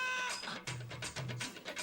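Several cats meowing and yowling in quick succession close by, a harmonic call at the start followed by a run of short, rough meows.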